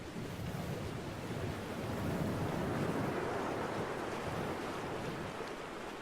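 Wind and sea on a remote island in the Dear Esther game: steady, full wash of surf and gusting wind, constant and moderately loud with no voices.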